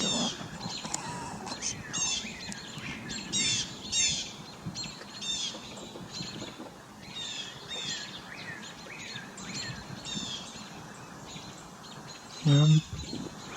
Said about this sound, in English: Dang, those birds do not like that hawk.